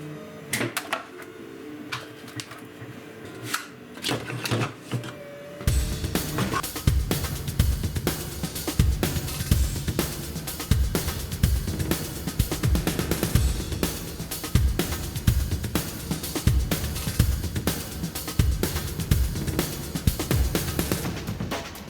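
A 3D-printed Unown W Pokemon figure being peeled off the printer bed, heard as a dense run of close crackling, snapping and scraping clicks after a quieter opening with faint knocks.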